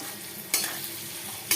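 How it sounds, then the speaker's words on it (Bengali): Marinated soya chunks fry in hot refined oil with a steady close sizzle, broken by two sharp clattering scrapes as they are stirred, and no talking. "এইবার আমি রিফাইন তেলে ম্যারিনেট করা যে সোয়া, এইবার আমি এগুলোকে লাল লাল করে একদম ভেজে নেব।"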